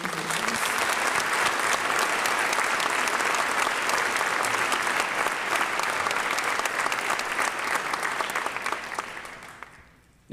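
Sustained applause from a school audience at a senior awards ceremony, dense and steady clapping for award recipients that holds for several seconds before fading out near the end.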